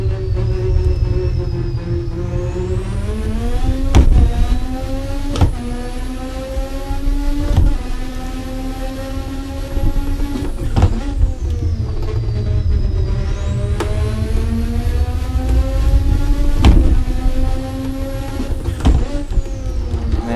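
Racing car engine in the Assetto Corsa sim revs loud and continuous, climbing and falling through gear changes with sharp shift blips and throttle stabs during heel-toe downshifts, sustained throughout.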